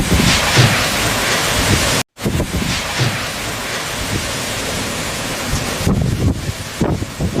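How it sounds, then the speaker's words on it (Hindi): Strong wind roars steadily as a storm approaches a village, dense and loud like gusts blowing across a microphone. A brief dropout cuts it off, then the blowing comes back with a few heavier buffets near the end. "अचानक से मौसम बदलता है और तेज हवाएं चलने"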